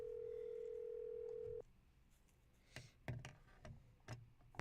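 A steady telephone dial tone hums in the Nancy Drew game Secret of the Scarlet Hand, then cuts off, followed by scattered clicks and soft taps of buttons being pressed.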